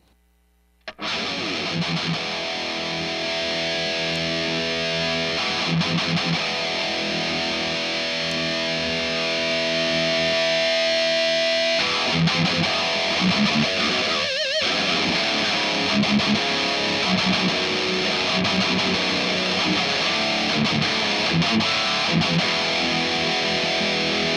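Electric guitar driven through a Quilter Overdrive 202 amplifier with the power section turned up, heavily distorted sustained chords ringing loud and thick, shifting partway through, played alone without talk.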